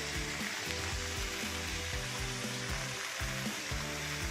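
A burger patty topped with cheese sizzles and fries steadily in a hot pan, a dense continuous crackle with small pops, close and fairly loud, with no talking.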